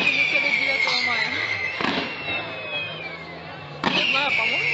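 Whistling rockets at a fireworks salute in Pushkino, with rising and falling whistles, sharp bangs and crackle layered over a continuous roar, while people talk nearby throughout.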